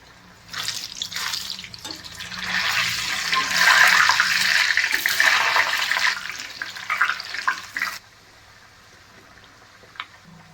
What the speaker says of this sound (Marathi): आता तेल पण तापून झालंय आपलं तेल तापून झालंय आता ही पुरी याच्यामध्ये आपण सोडली